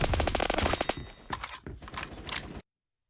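Rapid gunfire in the Phantom Forces video game, a fast burst of shots that slows into a few separated reports before cutting off abruptly into silence.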